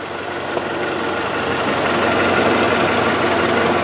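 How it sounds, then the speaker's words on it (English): A 1996 Honda Accord EX wagon engine idles steadily and close by, a smooth continuous hum with a faint rhythmic ticking running underneath throughout. "Listen to that engine, how quiet it sounds."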